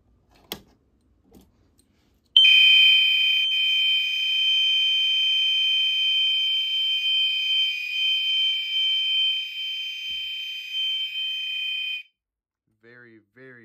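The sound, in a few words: Commander 1 fire alarm horn sounding continuously, very loud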